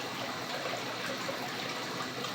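An aquarium pump driving a large tank's filtration pushes water in a steady, broadband rushing gush, constant and close with no talk.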